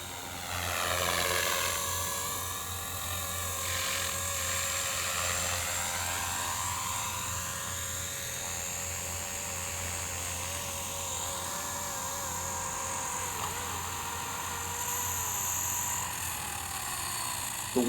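A Blade Infusion 210 RC helicopter flies on a runway in a crosswind, its rotor and motor making a steady high whine that rises and falls in pitch as it manoeuvres, loud and continuous throughout.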